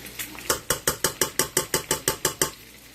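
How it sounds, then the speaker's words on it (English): A spoon clinks rhythmically against a bowl about a dozen times while sour cream is stirred into mashed potatoes, sharp, evenly spaced taps close by with no voices. "Stir it up a bit."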